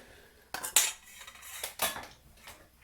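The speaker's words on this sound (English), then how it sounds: "Here's our macaroni going in." Dry macaroni poured into a metal pot for a simple macaroni cheese, a few close rattling clatters in quick bursts against a quiet background.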